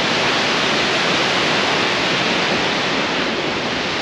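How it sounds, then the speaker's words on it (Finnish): A roaring waterfall in Lapland gives off a loud, steady, broadband rush that stays constant and close, with no voices over it. "vesi pauhaa."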